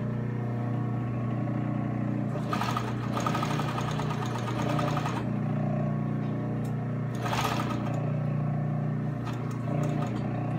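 A sewing machine hums steadily in the foreground while back stitching a Hong Kong seam finish, with two louder bursts of rapid stitching standing out from the continuous motor drone; no one talks.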